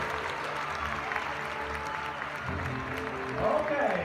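An audience aboard a cruise ship applauds finalists taking the stage, a moderate steady patter with cheering and voices mixed in, swelling slightly toward the end.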